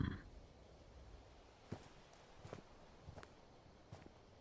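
Footsteps approach as several soft, separate thuds spaced about a second apart, faint and a little distant against a quiet, hushed background.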